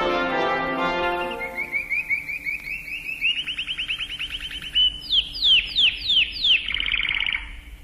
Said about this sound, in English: Your four collie birds have just arrived